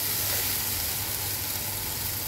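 Dried loitta fish paste stir-fries on low heat in a pan, giving a steady, dense sizzle that runs without a break, close and moderately loud, with no talking.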